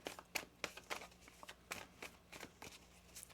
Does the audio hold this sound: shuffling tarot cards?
yes